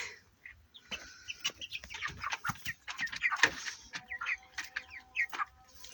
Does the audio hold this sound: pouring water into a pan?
no